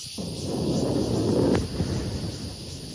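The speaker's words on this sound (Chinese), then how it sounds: "无想到发射4秒了后，熊熊爆炸，变做一粒火球，飞弹碎片伫空中散开。" A deep, rumbling boom swells and rolls on for a few seconds, with a sharp crack partway through, like a distant mid-air explosion heard outdoors.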